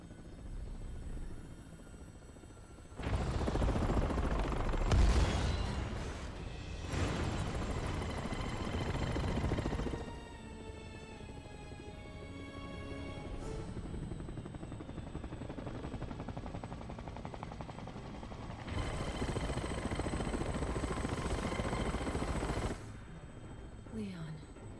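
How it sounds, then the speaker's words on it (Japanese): A helicopter flies with machine-gun fire in Resident Evil 6, a steady rotor drone under bursts of loud sustained gunfire that stop and start, with voices speaking at times. "まあヘリコプターでレオンを援護するところはまあそこまで難しくないでしょう"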